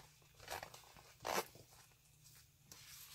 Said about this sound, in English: And it unzips completely just like this.